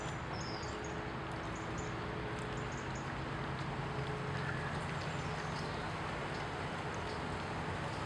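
A steady low rumble of boats moving along a river in Paris, with water wash and a few faint bird chirps above it.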